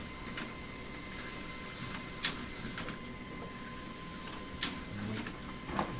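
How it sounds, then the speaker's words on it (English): An office printer works through a two-page job at a key-signing ceremony, giving faint, irregular ticks and short mechanical clicks over a quiet room hum. "2 pages, 1 copy, sent to the printer."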